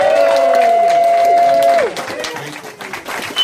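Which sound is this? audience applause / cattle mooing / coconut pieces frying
audience applause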